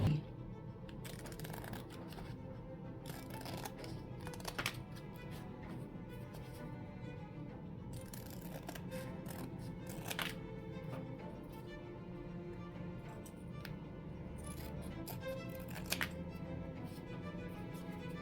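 Scissors cut out a picture to fit a frame during a DIY makeover, giving faint, scattered snips and crisp paper rustles with brief sharp clicks in a quiet room, with no talking.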